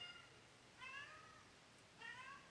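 A house cat meows twice, two short, faint, drawn-out calls spaced about a second apart in a quiet indoor room.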